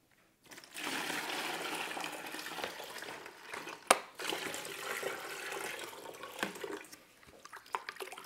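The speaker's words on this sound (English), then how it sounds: "I'm going to pour the entire cleaning bucket into the settling bucket" Dirty clay water poured from a cleaning bucket into a settling bucket in a home pottery studio, a continuous sloshing gush lasting several seconds with a sharp clunk midway and a few knocks near the end.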